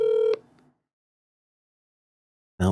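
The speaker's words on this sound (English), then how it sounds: "When it starts ringing again, that means he didn't answer." Telephone ringback tone on an outgoing call, a short electronic tone burst that fades out into silence, followed at the end by a voice talking.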